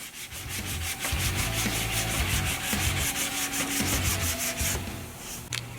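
Sanding on a plastic car bumper during a repair at a skills competition, a steady abrasive rubbing that runs continuously in fairly loud, rhythmic strokes with no talking.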